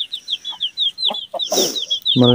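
Chickens cluck nearby, with a hen by a tree giving a string of short, close clucks and chirps and a louder squawk near the end.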